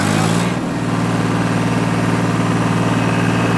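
Diesel tractor engine, a Ford 855 or John Deere 5310, running steadily at close range with a loud low rumble and constant drone that briefly dips then holds an even idle-like throb.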